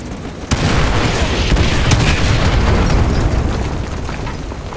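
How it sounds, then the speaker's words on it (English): Artillery explosions in Call of Duty MW2 Remastered: a heavy, loud boom strikes sharply, then a dense, sustained rumble of blasts and debris rolls on with further impacts cracking through. "Artillery inbound."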